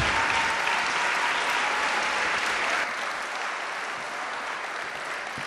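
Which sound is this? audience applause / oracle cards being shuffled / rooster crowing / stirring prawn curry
audience applause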